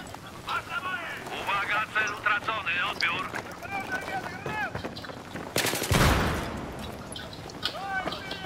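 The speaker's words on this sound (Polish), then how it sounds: "tam ktoś strzela" Battlefield 3 Close Quarters gunfire, repeated bursts of rifle shots crackling in quick clusters with a loud close blast, under players talking throughout.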